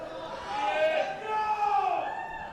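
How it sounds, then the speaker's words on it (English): Crowd noise at a provincial powerlifting meet, a steady murmur of many voices rising and swelling across the moment, fairly close and continuous with shouts blending into the din. "just the sound of the crowd"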